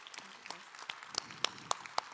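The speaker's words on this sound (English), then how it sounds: "give a huge round of applause" An audience at an EU investment conference applauds, a thin, scattered patter of individual claps that comes through faintly with some sharper claps toward the end.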